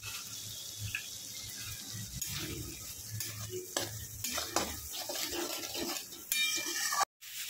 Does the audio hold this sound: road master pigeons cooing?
no